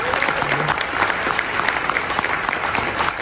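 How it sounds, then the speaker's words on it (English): A live keynote audience breaks into sustained applause, dense and even clapping from a large crowd filling the room throughout. "Give yourselves a round of applause for being unstoppable."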